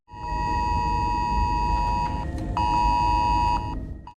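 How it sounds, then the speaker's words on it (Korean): A mobile phone emergency alert for a sandstorm warning sounds as a loud, steady electronic tone with a low rumbling underlay, holding for about four seconds before cutting off. "갑작스러운 모래폭풍 경보 문자로 인해"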